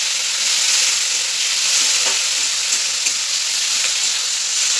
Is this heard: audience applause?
no